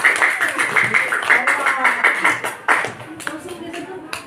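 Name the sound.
applause for the presenting group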